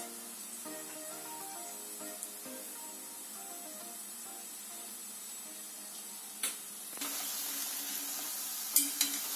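Lokma dough balls frying in hot oil, a steady soft sizzle and bubbling throughout, with a few light clicks and a brighter crackle near the end as more dough goes in.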